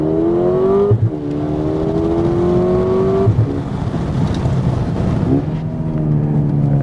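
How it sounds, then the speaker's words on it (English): A 2025 Mercedes-AMG CLA 35 coupe, four-cylinder, revving loudly in manual mode. The exhaust climbs and falls in repeated rising sweeps, close and continuous, with brief dips between revs and no talking. "let's just show you what a CLA 35 sounds like"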